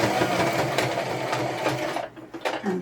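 A sewing machine stitches a seam on a scrappy decorative Christmas potholder, running in a steady close whir for about two seconds before slowing and stopping, followed by a couple of brief short bursts.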